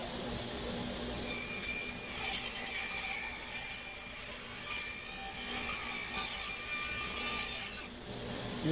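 A saw cuts a small wooden strip for a flag box edge, making a steady, moderately loud rasping whir that runs through the whole stretch without any talk.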